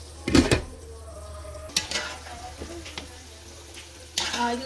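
Rice is being mixed into biryani in a cooking pot, with a few scraping, clinking spoon strokes against the metal spread across the moment and a low sizzle underneath.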